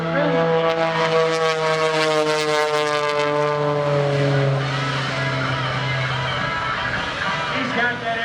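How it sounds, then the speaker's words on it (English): A propeller airplane performs at the 2021 Greenwood Lake Airshow, its loud steady engine drone holding and sliding slightly in pitch for several seconds before easing off as it passes. "He's got that airplane flying sideways."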